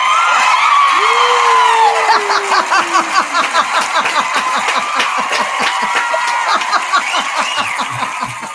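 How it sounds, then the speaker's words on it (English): A recorded crowd applause-and-cheering sound effect: a dense wash of clapping with whoops and high shouts rising over it, loud and sustained, fading slightly at the end. "That one was too short, and we need a real applause."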